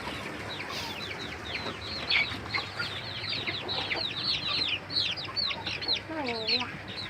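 Newly hatched free-range village chicks chirp in a dense, continuous chorus of short rising and falling peeps, with a nearby hen clucking low beneath them.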